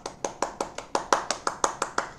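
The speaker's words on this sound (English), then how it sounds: "Let's give her a round of applause to motivate her." Clapping at a Toastmasters chapter meeting as a speaker is welcomed: about a dozen crisp, evenly spaced claps in a quick steady rhythm, fairly close and clear, with no voices.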